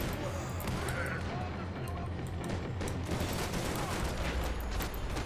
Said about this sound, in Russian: Так, куда я стреляю?